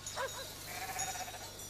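Ewes bleat on a sheep farm raised for milk and cheese, a short, fairly close bleat or two breaking through steady outdoor background noise with a low hum.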